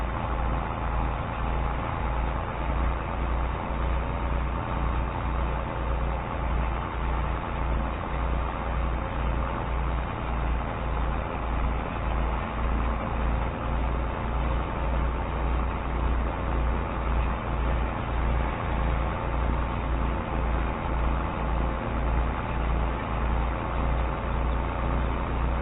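A David Brown 996 tractor engine runs steadily during grass rolling on a farm, a continuous low diesel rumble with even rhythmic pulsing, close and unbroken, with no talk.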